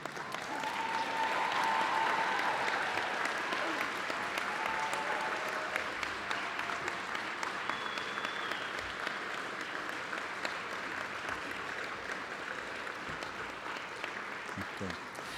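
A crowd at a college commencement applauds graduates, a long, dense roll of clapping from a large audience that holds steady for fifteen seconds with a few faint cheers and a whistle mixed in.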